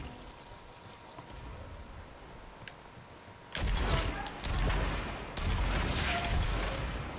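Rapid gunfire in the DOOM beta video game, with several loud back-to-back shot bursts cutting in over a quieter background partway through.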